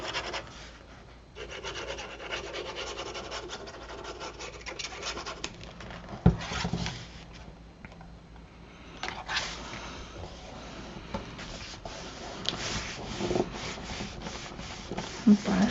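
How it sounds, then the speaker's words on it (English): Paper pieces of a Simple Stories Jingle All The Way shaker mini album being burnished down by hand: dry, close rubbing and scratching strokes that come in uneven bursts, fairly quiet, with no talking. "And burnish those down."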